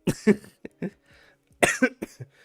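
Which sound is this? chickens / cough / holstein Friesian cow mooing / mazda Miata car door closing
cough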